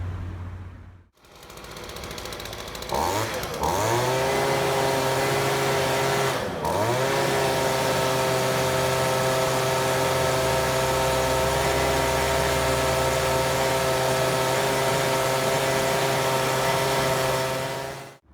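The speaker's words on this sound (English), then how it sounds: "a BG50 handheld steel blower right here and a backpack blower, a BR400" Stihl BG50 handheld leaf blower starts up, then drones loudly and steadily at close range, its two-stroke engine holding a constant whine after a brief rev, with no speech.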